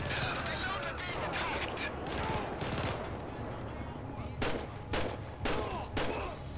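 SMG bursts and other gunfire rattle during a firefight in GTA V, a dense steady barrage with a few sharper, louder bursts toward the end, while voices talk over it.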